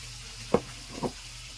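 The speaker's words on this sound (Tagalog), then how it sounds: "Pritong isda." Fish frying in a pan outdoors gives a faint, soft sizzle with two brief spatters or stirring clicks, quiet and close, with no one speaking.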